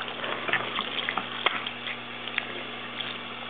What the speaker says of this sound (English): Water soaking.